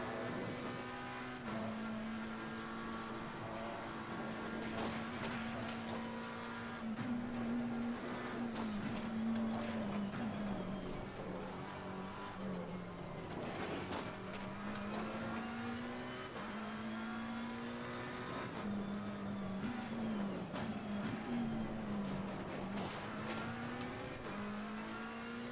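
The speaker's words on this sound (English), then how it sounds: "Yes, I'm driving a McLaren." McLaren 720S GT3 race car at Bathurst in Assetto Corsa Competizione, its engine droning steadily and rising and falling in pitch through repeated gear changes and accelerations, loud and continuous with no talk.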